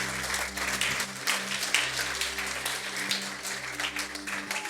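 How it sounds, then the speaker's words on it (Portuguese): Church congregation applauding during a Portuguese-language service, a steady wash of clapping from the crowd over a low, sustained hum, with no voices over it. "Então aplauda Ele mais uma vez,"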